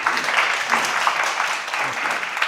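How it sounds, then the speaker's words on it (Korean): An audience at a Korean charity-supported human library talk claps to welcome the guest lecturer, a steady wash of applause from many hands, fairly close and sustained throughout. "우리 강사님 박수로 모시도록 하겠습니다"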